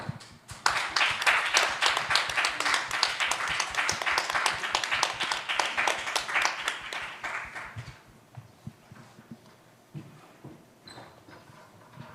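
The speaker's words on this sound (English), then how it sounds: "applause." Audience at the 2022 Jeju Forum plenary session clapping for the chairman, with many distinct hand claps in quick rhythm, loud and close for about eight seconds before fading to a few scattered claps and quiet room tone.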